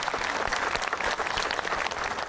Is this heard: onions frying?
no